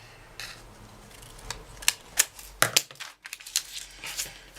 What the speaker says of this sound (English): I'm going to cut the corners